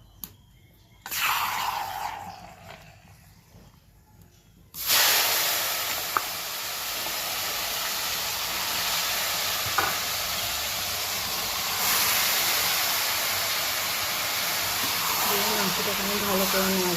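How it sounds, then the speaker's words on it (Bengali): Marinated desi chicken meat hits hot oil in a pan, bursting into a loud, steady hiss of sizzling that continues without a break, with a short quieter stretch at the start. "এবার এই গরম তেলে আমি ম্যারিনেট করা মাংসটা দিয়ে দেবো।"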